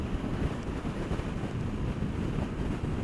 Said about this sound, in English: The wind's there.